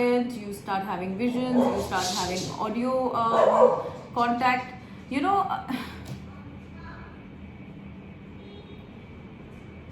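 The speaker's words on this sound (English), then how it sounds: "sorry, that was my dog." A dog barks and yips a few times in the first half, mixed in with someone talking indoors, then the room goes quiet with faint background hum.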